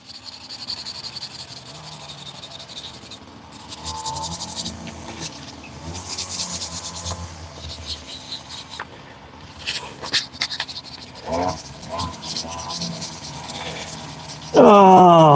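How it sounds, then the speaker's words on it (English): Rhythmic rubbing strokes of hand sanding rasp on and off for about fifteen seconds at moderate volume, with brief pauses between passes and a sharp tonal squeal at the very end. "Oh man, sanding sucks."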